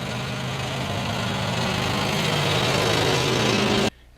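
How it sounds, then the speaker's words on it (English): A lawn mower runs steadily outside, a continuous loud engine drone holding level for about four seconds before cutting off abruptly near the end. "he's out there mowing the lawn"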